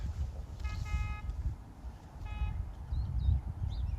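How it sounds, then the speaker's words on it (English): Two short car horn honks ring out from a vehicle approaching on a street, each a brief buzzy blare over steady outdoor rumble and traffic noise, with faint chirps later. "And they're honking."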